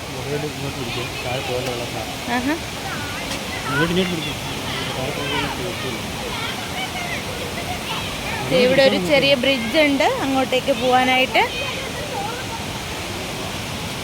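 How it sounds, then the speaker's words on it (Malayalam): A small waterfall at Meen Pidi Paara, Kerala, gives a steady rushing roar of falling water throughout, while a person talks over it almost continuously. "നമുക്ക് ഇവിടെ ഒരു ചെറിയ വെള്ള വെള്ളച്ചാട്ടം വാട്ടർഫോൾ പോലെ ഒരു വെള്ളച്ചാട്ടം ഉണ്ട്"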